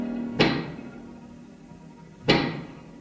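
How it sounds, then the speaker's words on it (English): Two heavy knocks of a giant pick striking, spaced about two seconds apart, each a sharp loud thud with a ringing decay, staged as a radio drama sound effect. "That is the sound of a giant pick."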